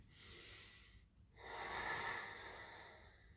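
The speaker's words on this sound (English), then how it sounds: "try to lock your cords, vocal cords together so you can make that sound breathing." Two slow, breathy ujjayi yoga exhalations with an ocean-like rasp from the throat, the second longer and fuller, close and quiet with no talking.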